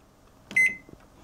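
A single short electronic beep sounds as a button is pressed on the keypad of a Samsung MC32J7055CT smart microwave oven, close and clear over quiet background.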